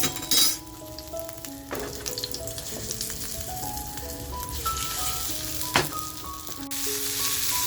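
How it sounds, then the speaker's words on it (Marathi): Pomfret stuffed with baby shrimp fries in oil on its second side, giving a continuous close crackling sizzle with a brief scrape near the start and one sharp clink later. "दुसऱ्या बाजूने फ्राय करून घेऊया"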